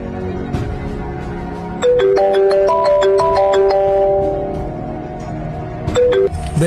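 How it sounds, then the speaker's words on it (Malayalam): A mobile phone rings close by, playing a bright stepped melody of electronic tones for several seconds before stopping abruptly. "ബെല്ലടിക്കണ്ട്, ഫോൺ എടുക്കണ ചേടാ."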